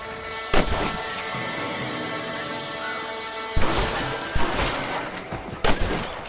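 Gunshots fired at rabbits in the Western game Red Dead Redemption: a sharp report near the start, then three more shots later, each ringing out over a steady bed of ambient game sound.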